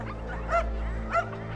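A small dog named Minnie barks twice in short yips, moderately close, over a steady low hum with no one speaking.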